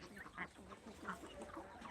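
Desi country chickens and ducks on a farm cluck, honk and quack softly in a loose, overlapping chorus, faint and a little distant, with no talking.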